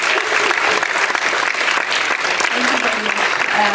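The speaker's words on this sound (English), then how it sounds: "please welcome with applause" An audience at an international youth work conference claps to welcome a speaker, sustained dense applause throughout with a voice briefly audible near the end.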